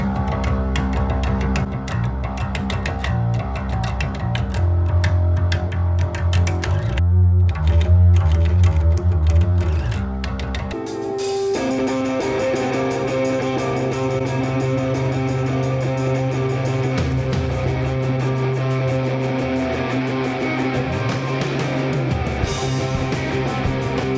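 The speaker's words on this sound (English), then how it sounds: "The first thing we tracked with this bass was this song, and I played through a Sans amp distortion" Bass guitar played through a SansAmp distortion, thick gritty sustained notes in a full band mix, with a brief break near ten seconds before the fuller, louder section resumes.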